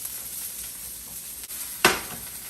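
Garlic toasts in olive oil in a pan alongside aged Wagyu strip steak, giving a soft steady sizzle with a sharp crackling burst near the end, no voices.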